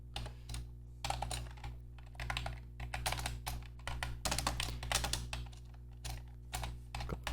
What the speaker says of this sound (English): I'm using a new keyboard for this, so I'm making a lot of typos here.